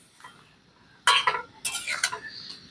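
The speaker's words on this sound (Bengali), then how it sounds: "এবারে সবকিছু দিয়ে ভালো করে নেড়ে নিতে হবে।" A spoon scrapes and clinks against a bowl while raw mango pickle mixture is stirred gently, two sharp bursts of clatter after a near-silent start.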